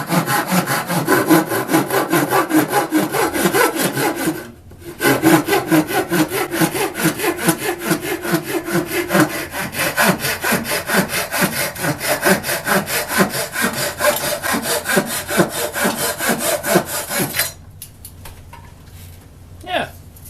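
Pruning saw blade cutting wood with a rapid, rhythmic rasp of push and pull strokes, close and loud, pausing briefly once and stopping near the end.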